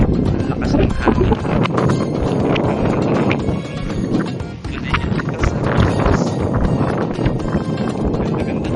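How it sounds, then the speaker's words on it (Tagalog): Strong gusts of wind sweep across a mountainside near a farm in Saudi Arabia, making a loud, constant buffeting rumble against the microphone that lasts throughout, with a person's voice faintly mixed in. "Ang lakas ng hangin."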